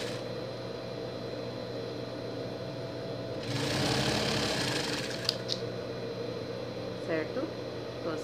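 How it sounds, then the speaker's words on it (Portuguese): A sewing machine stitches a Minions pet costume, a steady mechanical whirr that swells into a louder burst midway, with a person talking in the background. "Você vai costurar aqui, ó"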